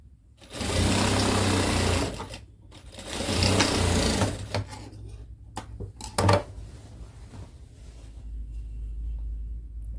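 An electric sewing machine stitches a hem on a lungi. It gives a close, steady whirring hum in long runs, broken by short pauses and a few clicks and knocks of handling.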